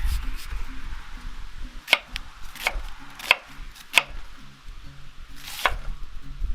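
A knife chops an onion on a cutting board in a kitchen, a handful of sharp, irregular thuds standing out over low background hum and a faint sizzle.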